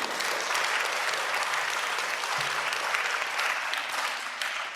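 Applause from a conference audience at a talk on equality and church establishment, a dense, steady wash of clapping that holds evenly for several seconds and tapers slightly at the end.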